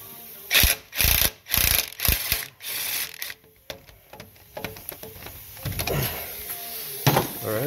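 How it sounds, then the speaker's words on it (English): A 1/2-inch impact wrench with a 6-inch extension and an 18 mm six-point socket removes a bolt from the front hub of a 2004 Dodge Ram 1500 4x4, firing several loud, rattling hammering bursts close by, then quieter clicks and shuffling. "I got a 6-inch extension on a 1/2-inch impact"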